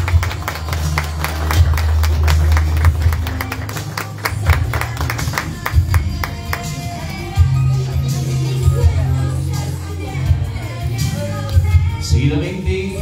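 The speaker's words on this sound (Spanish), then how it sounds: "Fuertes los aplausos." Scattered clapping from guests at a quinceañera celebration rises over loud, bass-heavy party music, with the applause mixed under the beat.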